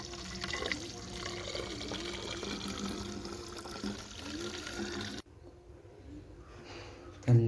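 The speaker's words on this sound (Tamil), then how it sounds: "எங்கள் பிள்ளையிலேருந்து கொஞ்சம் தூரம் தள்ளி வந்து நான் இப்போ தண்ணி பிடிச்சிக்கிட்டு இருக்கேன்" Water from an outdoor pipe filling a container, a steady rushing, splashing flow close by that cuts off sharply near the end, followed by a brief knock.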